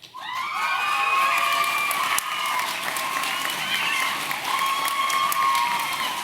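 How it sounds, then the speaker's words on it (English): Audience applause at a school awards ceremony, a sustained wash of clapping with some cheering and shouts from the crowd, steady and full for several seconds. "Maybe we should hold our applause until the end."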